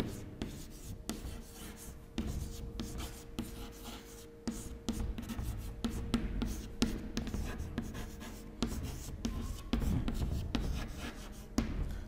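Chalk or marker scratching steadily across a classroom board as a teacher writes a name during a lecture, a faint, continuous rasp broken by short taps and pauses.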